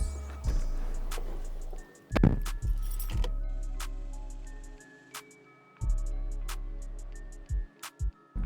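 The key of a right-hand-drive 1996 JDM Toyota Celica is handled near the car, giving a few close metallic jingles and clicks among sharp knocks and thumps of the door and interior, with quiet gaps in between.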